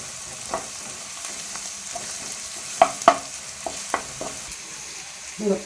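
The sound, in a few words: ginger paste frying in a pan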